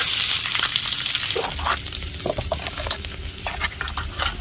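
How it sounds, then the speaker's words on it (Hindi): Garlic dropped into hot oil in a wok sizzles loudly and steadily at close range, with a bright hiss at first that settles into crackling frying and occasional stirring clinks, no voices. "अब हम लहसुन को डालते हैं इस तरह से"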